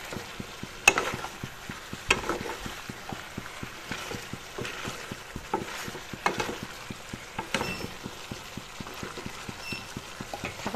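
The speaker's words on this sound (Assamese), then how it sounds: "এতিয়া মাংসখিনি এনেদৰে তল ওপৰ কৰি লৰাই দিম।" Chicken curry with brinjal being stirred and turned over in a pan, a soft bubbling sizzle under repeated scraping and clinking of the spoon against the pan, close and moderately quiet.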